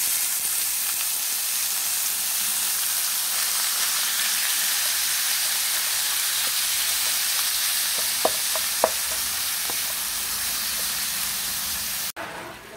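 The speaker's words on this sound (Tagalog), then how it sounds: "Lagay ko na yung giniling." Ground pork fries in a pan, a steady close sizzling hiss with a few sharp clicks of utensil on pan near the end, no talk.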